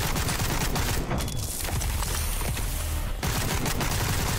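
Dense, continuous gunfire in the Sker Ritual video game as an enemy is shot, forming a loud, unbroken barrage of rapid shots with a brief dip partway through.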